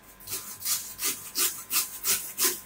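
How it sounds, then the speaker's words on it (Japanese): A handsaw cuts through tuna bone during a fish breakdown at the Toyosu market, giving about seven steady rhythmic rasping strokes, close and fairly quiet, with no talking. "今ここの骨を 切るところまでノコギリを使いました"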